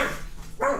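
Blue, a pet dog, barks indoors: one sharp close bark, a short pause, then a second bark, loud and alone.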